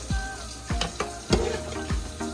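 Jamaican oxtail cooks in a pot with a steady sizzling bubble, broken by about six sharp clanks and knocks from the pot, close and moderately loud, with no talking.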